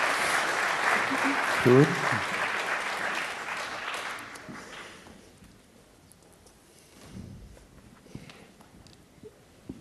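Audience applause at a round-table panel discussion, loud at first and then fading out over several seconds, with a speaker's voice talking over it.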